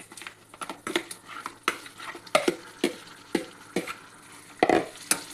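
Mutton is stirred in a pot with salt, chili powder and turmeric, giving a series of close scraping and clinking strokes of a utensil against the metal over a faint sizzle, irregular in rhythm.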